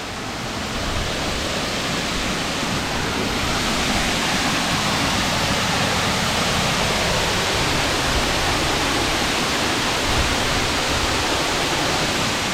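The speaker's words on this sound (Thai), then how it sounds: "เป็นน้ำตกที่อยู่ในป่าเลยนะ" Loud, constant roar of a forest waterfall, a dense rushing wash of falling water that fills the scene without pause.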